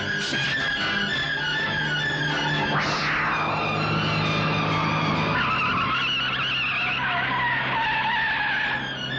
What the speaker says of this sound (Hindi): Stop the car.